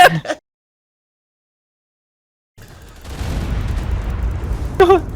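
An explosion in a video game bursts out after a brief silence, a loud rumbling blast with crackling debris and a sharp pop near the end.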